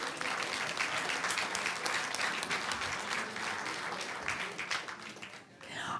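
Steady audience applause at a school board meeting honoring students, a continuous wash of many hands clapping at moderate distance that thins out toward the end.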